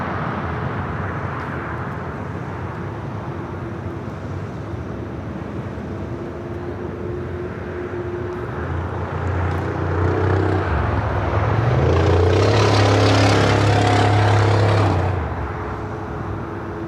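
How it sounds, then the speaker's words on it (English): A Delta Airlines Airbus A350-900 taking off from runway 25 right at LAX, its distant jet roar building to a loud swell and then easing away, over steady background hum. "Up next, Delta Airlines Flight 341. It's an A350-900. Next takeoff here on the south side at 25 right."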